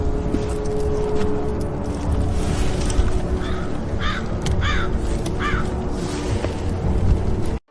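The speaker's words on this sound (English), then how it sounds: "I can even hear crows cawing loudly in the background" Several crows caw in short repeated calls over a loud, steady rushing background, the calls coming in a run of four or five.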